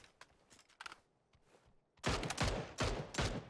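Bursts of PUBG gunfire in a battle royale match: a few faint, scattered shots first, then loud rapid volleys of repeated cracks in quick succession, close and dominant.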